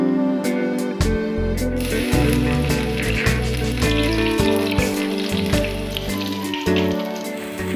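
Four crushed skin-on garlic cloves sizzle and crackle in hot oil in a pan, a steady close frying hiss with popping bursts, and no talk over it.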